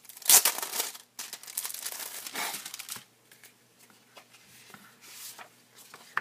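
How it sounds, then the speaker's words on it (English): Crinkling plastic wrap as a package of SunStar Disney Frozen origami paper is opened, with loud crackly bursts early on, then quieter intermittent rustles and crinkles, close by with no talk. "So let's go ahead and open it up and see what kind of paper we've got here."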